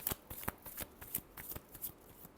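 Tarot cards are shuffled close by in a quick riffle of soft, papery flicks and slaps that repeat at an irregular pace.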